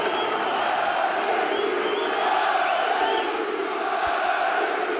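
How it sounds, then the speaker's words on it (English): A packed boxing arena crowd in the North East of England roars and cheers continuously before a champion's ring entrance, a dense steady wall of voices with whoops rising and falling throughout. "Listen to this crowd in here, Alan."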